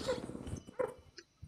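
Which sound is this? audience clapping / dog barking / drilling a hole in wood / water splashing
dog barking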